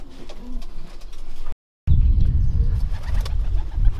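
Racing pigeons in a loft coo softly nearby with low throaty calls amid rustling and shuffling, broken by a brief silent gap before the cooing and bustle resume.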